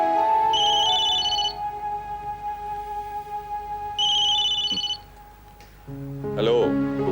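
A mobile phone ringtone plays in two short electronic chirping bursts with a pause between them, over a sustained musical background tone, and a voice starts speaking near the end.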